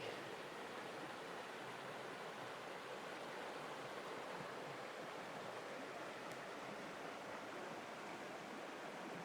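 Steady rushing and babbling of a small creek flowing over rocks, continuous and close, with no voices.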